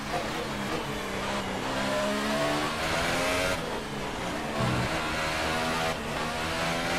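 Formula 1 race car in F1 2018 on the Singapore street circuit, engine revving loud and close with harmonic whine rising and falling as the car slides, a brief tire squeal midway, continuous over the full run.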